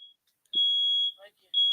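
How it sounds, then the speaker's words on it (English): A home fire alarm goes off with piercing high beeps, a short one and then a long sustained tone. Brief muffled vocal sounds come from the room under the alarm. "That's a fire alarm in your house."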